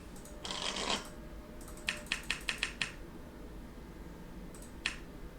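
Board game cards being shuffled close up: a crisp riffle burst, then a quick run of six sharp snapping slaps as the deck is bridged, and one final single snap, with no talking.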